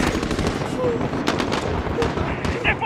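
Gunfire in Call of Duty Modern Warfare (2019), a continuous rattle of rapid shots mixed with sharper bursts, voices talking underneath the firing throughout.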